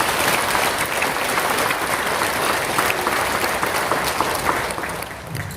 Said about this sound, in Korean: 환영하며 큰 박수로 부탁드립니다.